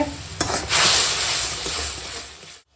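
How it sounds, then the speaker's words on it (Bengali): Mung dal broth seasoned with salt, chili and turmeric powder bubbles in a pan, a steady close hiss and sizzle with a sharp clink near the start, running alone until it cuts off abruptly. "লবণ দিয়ে এখন ঝোল ফুটে গেছে"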